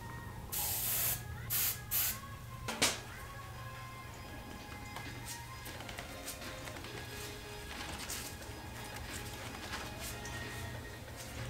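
Hairspray hisses from a can in a few short, sharp bursts onto a motorcycle handlebar grip on a Yamaha Virago XV250 bobber, then a low steady hum carries on quietly.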